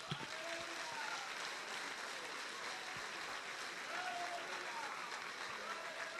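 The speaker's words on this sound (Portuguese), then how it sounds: "Vou aplaudir, não, gente?" Congregation at an Assembly of God church event breaks into applause, a quiet, distant spread of clapping with murmured voices underneath.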